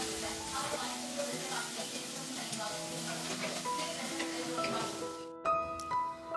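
Cinnamon, cardamom, cloves and sliced onions fry in hot ghee, a steady close sizzle with faint stirring, ending in a brief pause and some light clinks.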